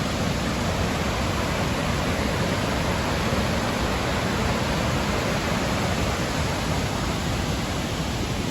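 Water rushes over a weir or rapids in Banff, a dense, steady roar with no letup, loud and close, with no voices.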